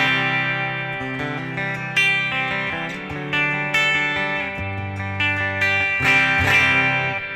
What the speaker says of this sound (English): it has just a larger reverb sound starting off